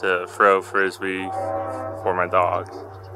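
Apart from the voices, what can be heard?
train horn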